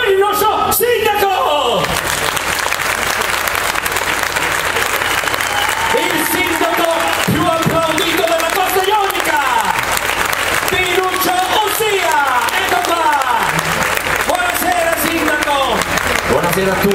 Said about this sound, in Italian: E allora signori e signori, un applauso per il nostro sindaco!